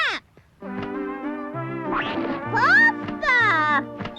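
A voice imitates a duck, giving a quick series of nasal quacks, close and fairly clear.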